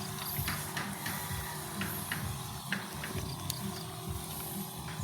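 A manual sprayer loaded with herbicide is pumped in a watermelon field, giving off a steady mechanical creak and clicking with repeated faint ticks, close by and alone with no talking.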